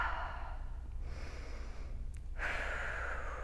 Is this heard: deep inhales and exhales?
yes